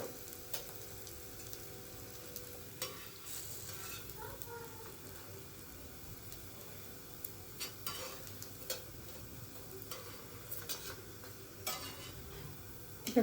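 Beetroot cutlets fry in a pan with a faint, steady sizzle and occasional soft ticks and scrapes from a utensil.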